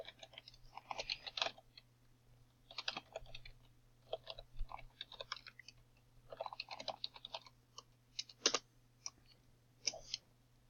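Close, quiet typing on a computer keyboard while logging into an account, in irregular bursts of rapid key clicks separated by short pauses, over a faint steady hum.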